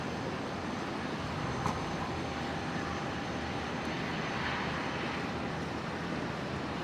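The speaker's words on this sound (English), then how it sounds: "We've got a beautiful Fokker 70 about to start up in front of us." A Fokker 70 jet engine spooling up at Brisbane International Airport, a steady broadband roar with a faint rising whine, heard from nearby and without talk.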